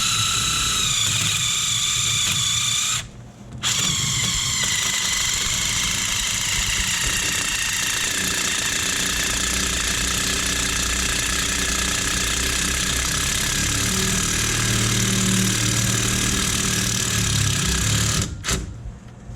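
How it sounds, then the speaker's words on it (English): A powered driver works on the rear shock bolt of a 1999 Ford Taurus, giving a steady buzzing, rattling whine that runs almost the whole time with two brief pauses, close and loud. "Stick it on your impact driver."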